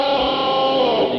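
Electric guitar body struck so the vibrato bar flutters, giving a sustained buzzing, cricket-like warble through effects and distortion, brief and loud with no other sound.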